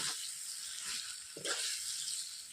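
Duck meat frying in a pot over a wood fire, giving a soft, steady sizzle and hiss with a couple of brief louder pops, fairly quiet with no talking.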